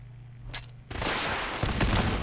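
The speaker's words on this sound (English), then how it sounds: "I'm going to start with some grenades over there" Grenades and gunfire in Fallout 4 erupt after a short quiet stretch with a sharp click, then a dense, loud roar of blasts and shots that holds steady to the end.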